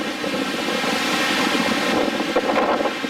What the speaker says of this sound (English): The winds are probably gusting about 20-25 miles an hour.